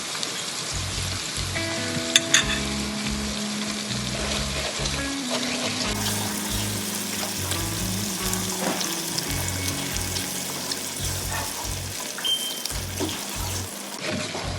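Shrimp sauté in oil in a pan with red chilli powder, turmeric and salt, making a steady, close sizzle and bubbling that hisses like running water. A faint hum runs under it, with a few light clinks.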